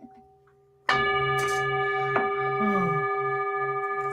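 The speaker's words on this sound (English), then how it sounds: "Dinner time, dinner bell." A bell rings once loudly, then rings on in a long shimmering tone with a lighter second strike a little over a second later, the tone slowly fading.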